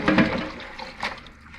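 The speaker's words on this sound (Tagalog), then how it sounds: "Ibabad natin ito sa salt." Vegetables dropped into salted water to soak in a home kitchen give a brief close splash and swish, fading into a light trickle.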